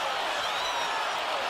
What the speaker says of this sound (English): And you hear the crowd saying no.